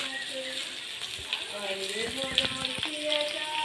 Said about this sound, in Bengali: আলু আর টমেটো ততক্ষণ ভাজা হতে থাক